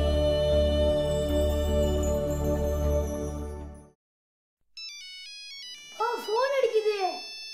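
A telephone rings in a home in a Tamil television serial. Steady loud tones are cut off after about four seconds, and a short electronic melody with a voice follows.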